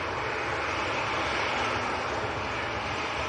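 A Ryanair Boeing 737-800 bound for Tirana departs Manchester Airport in crosswinds, its jet engines giving a steady, loud, broadband roar that holds evenly throughout with no voices.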